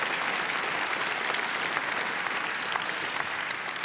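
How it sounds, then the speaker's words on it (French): Steady, dense applause from a large audience at the Swiss Film Awards ceremony fills the hall continuously, even and sustained without pause. "Je pense qu'on peut applaudir"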